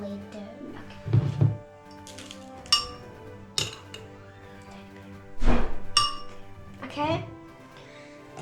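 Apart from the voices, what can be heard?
spoon clinking in a glass while adding brown sugar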